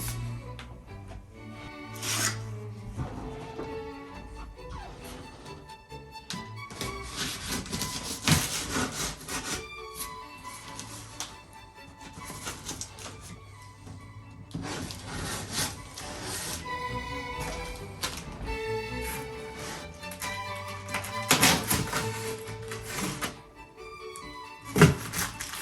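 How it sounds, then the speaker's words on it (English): Handling and opening the outer cardboard box of a TOMY Star Trek model kit, with close scraping, rubbing and thumping sounds at an irregular pace, no one talking. "let's open up the outer box"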